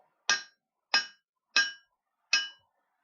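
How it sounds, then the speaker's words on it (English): Four evenly spaced ringing metallic strikes as a hammer drives steel against the edge of an anvil while forging a deba knife, each clang bright and decaying quickly, with no voices. "I'm using the edge of the anvil or the side of the anvil"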